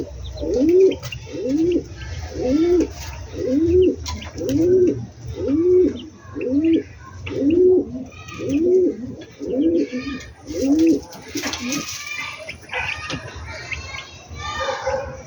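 A male and female pair of pet birds coo inside a cage, giving about ten deep, rhythmic coos roughly once a second, close and clear, before falling quiet over faint background noise.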